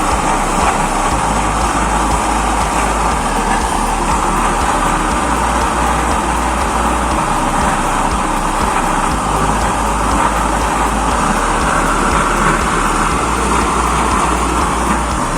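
A used oil stove's flame booster burner, with a small 3.5-inch chamber, roars in a loud, steady, broadband rush that keeps up without a break the whole time, close by and with no voices.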